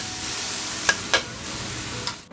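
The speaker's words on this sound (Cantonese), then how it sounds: "聽到個鑊有吱吱聲" Oil and vegetables heat in a hot wok, giving a low, even sizzle, with a few sharp scrapes of stirring along the way. No voice is heard.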